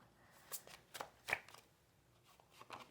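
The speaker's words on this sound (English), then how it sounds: "Look, I'm shuffling in front of you." Tarot cards shuffled by hand in a series of quiet, crisp riffling bursts spread across a few seconds, faint and close with no talking.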